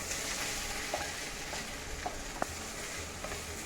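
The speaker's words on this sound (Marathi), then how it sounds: "तेल चांगलं गरम झालं की हा आपण कापून घेतलेला कांदा आहे तो याच्याकडे टाकायचा" Chopped onion for misal pav fries in hot oil with a continuous close sizzle and a few light stirring taps.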